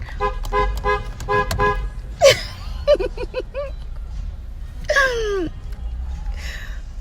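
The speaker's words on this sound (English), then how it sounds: "so I guess we honk our horns." Several car horns honk in short repeated toots, some overlapping, followed by voices and a longer horn blast nearby.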